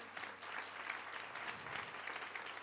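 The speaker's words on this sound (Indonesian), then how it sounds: "Saudara-saudara sambut tepuk tangan yang paling meriah." A church congregation applauds steadily and fairly faintly, a continuous patter of many hands clapping with no talk over it.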